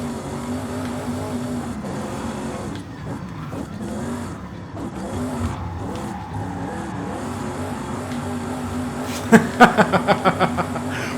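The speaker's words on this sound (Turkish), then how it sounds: "Abi yemin ediyorum düz gidemeyen dizel ya. Mazotlu oğlum bu." Diesel Jaguar car in Forza Horizon 5 drives with a steady engine drone and road noise, then a burst of rapid, loud tire skid chirps near the end.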